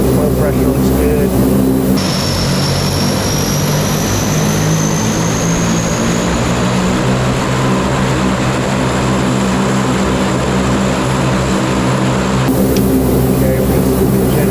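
A running aircraft engine after start roars loudly and steadily from close by, a constant propeller drone with a slight whine that shifts midway, while voices talk over the noise.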